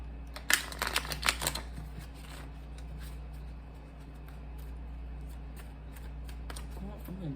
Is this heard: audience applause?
no